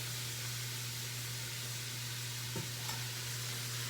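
Onions fry in the bottom of an Instant Pot as a soft, steady sizzle and hiss, with a low hum throughout and a brief scrape of stirring near the end, all quiet and without speech.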